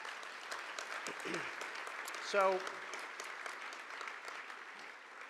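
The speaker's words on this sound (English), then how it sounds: "Give him another round of applause for that." Steady, fairly quiet applause from a gala audience at a NASA space awards dinner, with a brief spoken word partway through.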